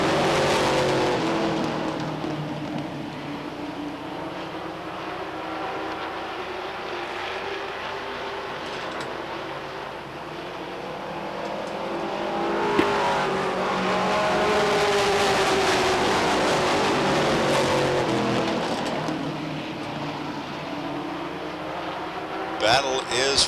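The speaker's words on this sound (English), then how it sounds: "Danny Palmer and Dave Bath battling side by side for that 5th place position" Stock cars racing at Beech Ridge Motor Speedway during 1991 weekly racing, a steady roar of engines sweeping past with rising and falling pitch, continuous and fairly loud throughout.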